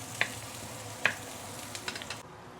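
Ginger and shallot sauté in hot oil, a soft continuous sizzle punctuated by a few sharp clinks and taps of a utensil against the pan.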